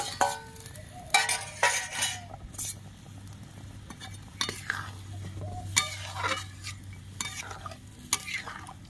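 Potatoes going into a pan for egg pulao and being stirred, irregular bursts of metal spatula scraping and clattering over a low sizzle, close up, with a faint murmur in the background.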